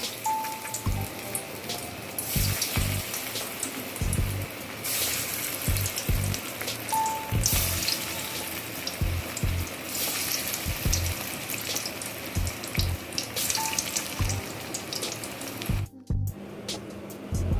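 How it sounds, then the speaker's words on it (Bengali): Jackfruit koftas deep frying in a pan of hot oil bubble and crackle in a dense, watery hiss with small recurring pops and clinks, close by, with no voices. "তেল গরম হয়ে গেছে, এবার কোফতাটা ভেজে নেব।"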